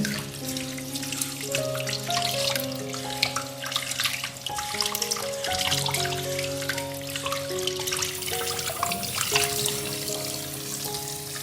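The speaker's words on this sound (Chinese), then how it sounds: "我妈这边正在洗咸鸭蛋，正在洗鸭蛋" Duck eggs are washed by hand under running water, a steady close faucet splash with sloshing and trickling throughout, along with faint clicks of eggs knocking together.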